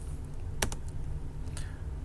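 A few keys are pressed on a computer keyboard in short clicks, a quick pair and then a single tap, close up over a steady low room hum.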